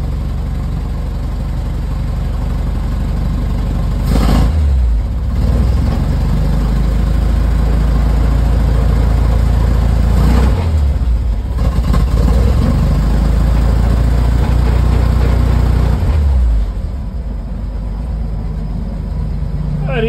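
A 1953 Dodge M37 engine runs rough and barely idles, a loud low rumble that surges and sags unevenly, with a few bursts of revving throughout.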